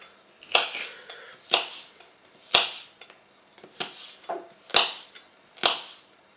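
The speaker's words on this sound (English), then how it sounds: "And then just slice down and do about ½ centimetre slices." Knife slicing down through vegetables on a chopping board while preparing Pad Thai stir fry, giving about six sharp, separate chops at an uneven pace, close and fairly loud, with no talk.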